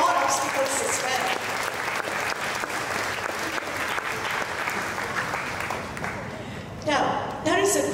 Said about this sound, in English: So we also give a round of applause to Datin Sri.